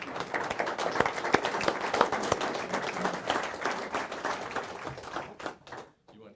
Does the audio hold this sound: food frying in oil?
no